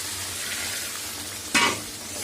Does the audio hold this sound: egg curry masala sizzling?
yes